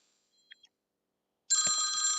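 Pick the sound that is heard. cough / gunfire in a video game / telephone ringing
telephone ringing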